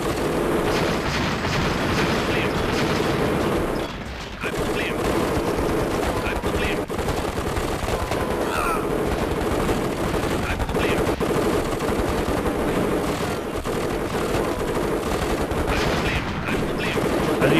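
Dense, continuous gunfire in the real-time strategy game KKND: rapid machine-gun bursts and explosive booms layered into a loud, unbroken battle din, with a brief dip around a few seconds in.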